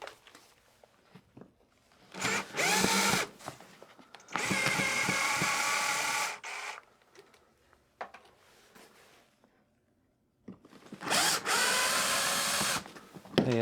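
A power drill whirs in three bursts, driving long screws into a Ridge v3 bag, with short pauses and small clicks and handling noises between runs.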